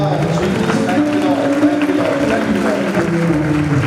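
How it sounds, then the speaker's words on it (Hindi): A church congregation claps in praise during a Sunday convention service, steady dense applause over a murmur of voices and faint music, with talking mixed in. "ताली बजाकर परमेश्वर की स्तुति तो कर ले"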